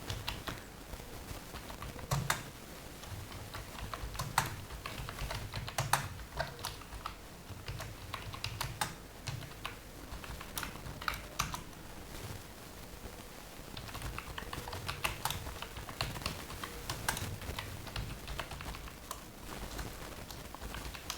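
Typing on a computer keyboard while building a LibreOffice template, heard as steady, fairly close clicking keystrokes in quick irregular bursts that run through the whole stretch with no talking.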